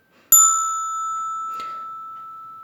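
A bright struck bell-like tone sounds once and rings on with a long, slowly fading sustain, with a faint soft tap partway through.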